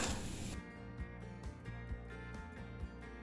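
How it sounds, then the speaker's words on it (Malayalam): Mustard seeds and two dried red chillies sizzle in hot oil in a pan for coconut-milk egg curry, a steady loud frying hiss dotted with sharp pops and crackles. "ഇനി ഇതിലേക്ക് ഒരു 2 വറ്റൽമുളക് ചേർത്ത് കൊടുക്കാം."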